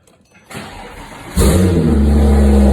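A Porsche 997 Turbo fitted with a Speedtech 3.0 straight-piped race exhaust cranks briefly, then fires into a loud, booming start and settles into a deep, raspy idle close by.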